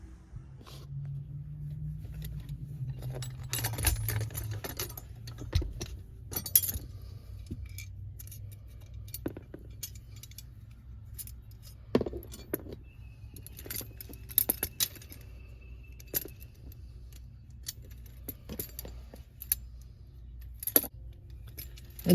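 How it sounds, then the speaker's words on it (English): Metal clinks and rattles from 8mm spanners tightening M5 high tensile bolts on a fire extinguisher bracket in an Isuzu NPS truck, scattered sharp ticks and jangles with brief pauses between, fairly close and quiet. "tighten up those two bolts with the 8mm spanners"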